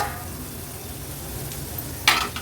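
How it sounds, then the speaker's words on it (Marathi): Green masala frying in oil over a high flame on a stovetop, a steady low sizzle that holds throughout, with a brief brighter burst near the end. "हिरवा मसाला आपण तेलावर छान परतून घेतला आहे गॅसची फ्लेम मी वरच ठेवलेली"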